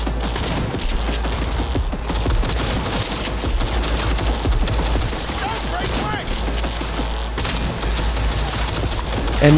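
Repeated heavy shotgun blasts ring out in Cyberpunk 2077 amid a chaotic firefight, dense bursts of shots and clatter with a deep rumbling bed, loud and close, with faint voices mixed in.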